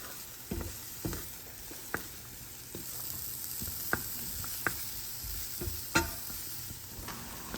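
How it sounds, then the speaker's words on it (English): Leeks softening in a pan with a steady quiet sizzle, broken by a handful of sharp scraping stirs at irregular intervals, close and alone with no voices. "Cooking the leeks."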